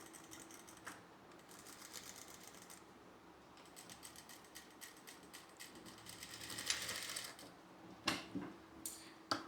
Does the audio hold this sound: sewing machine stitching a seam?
yes